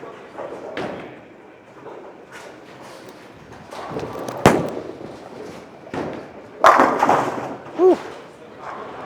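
A Hammer Arctic Vibe bowling ball rolls down the lane, then strikes the pins with a sharp clatter mid-clip and a second crash later, heard at moderate distance within alley noise.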